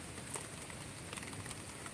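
Light rain falls outdoors on a grey day by the sea, heard as a faint, steady, even patter with no other clear sounds.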